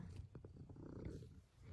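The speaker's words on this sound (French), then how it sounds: "Et ça ronronne comme un tracteur." A cat purring loudly, compared to a tractor, a steady low rumbling drone that continues close and unbroken for the whole stretch.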